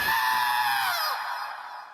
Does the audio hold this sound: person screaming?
yes